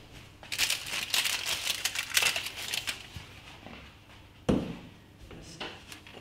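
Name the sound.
baking paper being removed from bread loaf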